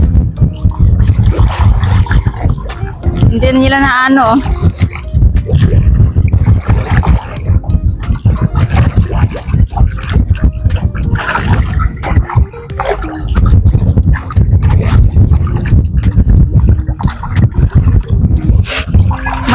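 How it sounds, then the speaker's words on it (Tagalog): Strong wind gusting over a lake from a boat, a steady low roar buffeting the microphone throughout, with people talking over it. "Malakas yung hangin."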